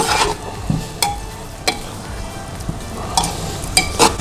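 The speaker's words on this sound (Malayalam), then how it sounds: "ആ കുക്കറിലിട്ട് നന്നായിട്ട് മിക്സ് ചെയ്തിട്ട്" Beef mixture stirred in a pressure cooker for beef chukka, a close scraping clatter with a few sharp knocks and a faint sizzle beneath.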